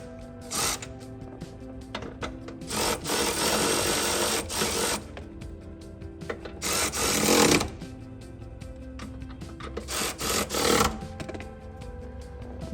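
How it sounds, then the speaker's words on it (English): Power driver spinning 12mm steering column bolts on a Honda S2000 during a gauge cluster install, heard as several loud whirring bursts of a few seconds each, separated by quieter mechanical clicks and handling noise. "Right now, we're going to tighten the 12mm bolts we removed for the steering column."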